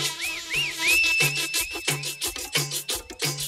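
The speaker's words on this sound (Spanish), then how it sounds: "échate un chiflidito" A person whistles a rapid series of rising and falling tones at a lively street festival with rattles and drums, the whistling loud and close over a steady percussion beat.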